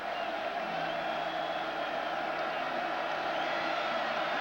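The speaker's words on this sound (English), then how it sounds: "crowd wants a shutout. You can hear it. They're making a lot of noise right now." Steady roar of a college football stadium crowd, Utah State at Oregon in 2008, a dense continuous wash of cheering voices filling the clip with no breaks.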